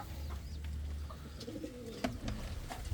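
Indian fantail pigeons cooing in a loft, soft throaty coos rolling in low bursts, with low rumble and a few faint clicks around them.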